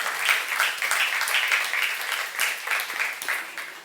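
A congregation breaks into sustained applause during a youth sermon at a Korean church; the clapping is dense and continuous, moderately loud, with faint voices mixed in.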